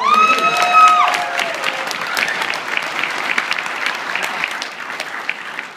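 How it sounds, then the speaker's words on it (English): Audience applause at a PAX East 2013 talk on video game addiction: a full round of clapping from a crowd in a hall, loudest at the start and then holding steady for several seconds. "Round of applause for human"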